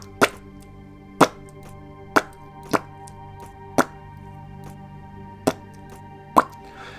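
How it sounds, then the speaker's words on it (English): A potato gun planting potato seedlings in the game Occupy Mars, heard as eight sharp, hollow plops spaced irregularly over a quiet background. A voice makes the plops by mouth. "let's take my potato gun and let's seed some taters"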